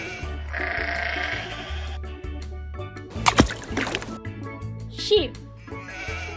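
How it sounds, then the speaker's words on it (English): A sheep bleats in a wavering, nasal cry partway through, over a cheerful looping music track. "Sheep."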